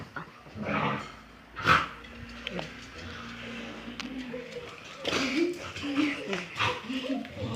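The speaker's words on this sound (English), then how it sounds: "Now you will see how fast this little dog is." A small dog growls, yips and whimpers in short bursts nearby, mixed with people talking and movement in the room.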